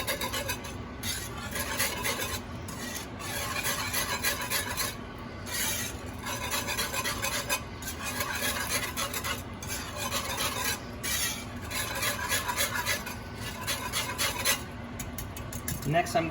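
A utensil stirs turkey à la king sauce in a pot, scraping and clinking quickly and steadily at close range, with sizzling beneath it and no talk.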